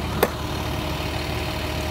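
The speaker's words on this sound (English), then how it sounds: "Oh, that's your engine" A 2002 Alfa See Ya 36FD motorhome engine idles with a steady low rumble, close and even throughout, with one brief sharp click near the start and no speech.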